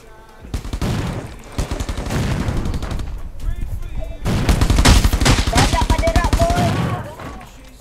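Gunfire in the mobile battle royale game ROS, with dense bursts of rapid automatic shots in two long volleys, loud and close, and voices talking under the shooting.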